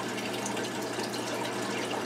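Water pours steadily into a gudgeon aquarium during a large water change, a soft continuous gush at low volume with a faint low hum beneath, unbroken and with no talking.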